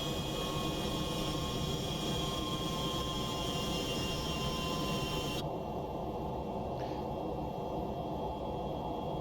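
Engine drone of a simulated MD-11 trijet in X-Plane 12: a steady, even roar with a high whine, continuous throughout, the whine cutting out partway while the low rumble carries on, no voices.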